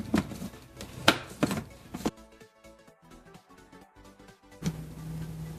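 A blender starts up near the end and whirs avocado brownie batter sweetened with maple syrup in a steady, droning hum, after a few sharp knocks and clatters and a short quiet stretch.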